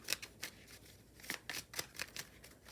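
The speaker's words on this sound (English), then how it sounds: "I need to shuffle." Tarot cards being shuffled by hand, a run of soft papery riffles and flicks in uneven bursts, close and quiet with no talking.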